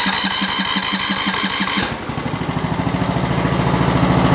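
A newly installed tractor engine cranks with a rapid rhythmic chug, then catches and settles into a loud, steady running drone close by.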